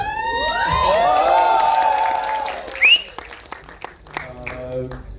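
An audience at a special screening of the Marathi film Gulkand claps and cheers loudly. Whoops and shouts rise over steady applause, which then fades into scattered claps and voices.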